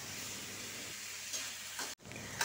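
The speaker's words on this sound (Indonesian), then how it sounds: "Aduk-aduk sampai tercampur rata dan masak sampai terongnya matang." Green eggplant and anchovies are stir-fried in a pan, giving a soft steady sizzle with a few scraping stirs and a brief clatter, quiet and close, with no talk.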